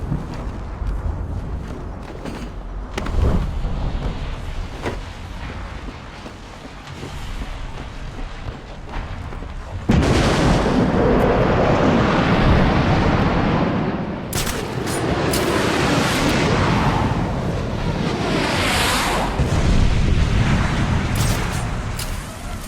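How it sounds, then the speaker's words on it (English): Artillery shelling of a museum in the Batman: Arkham City video game, heard as a dense barrage of heavy blasts and rumbling impacts that grows louder and fuller partway through and stays continuous to the end, with no talk. "Sir, initial bombardment of the museum has been completed."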